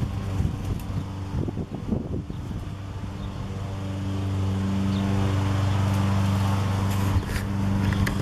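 Wind picking up in an outdoor flower garden, a broad rumbling buffet that swells and holds steady and loud partway through.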